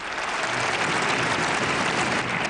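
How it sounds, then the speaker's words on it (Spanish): An audience gives a sustained ovation, dense and steady applause filling the space at full level with no voices over it. "De entrada, ovación."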